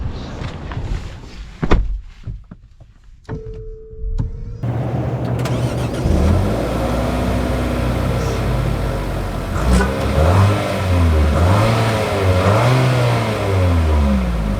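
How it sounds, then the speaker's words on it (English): A 2025 Infiniti QX60 with a new turbo engine starts up after a few thunks, settles into a close idle, then accelerates with rising, falling engine tones that swell into loud revving. "let's see how this new turbo engine performs."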